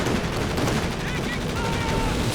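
Strafing-run machine-gun fire from a support ability in Company of Heroes 2 rattles as a dense, continuous burst throughout, loud and close amid battle noise with game commentary talking over it.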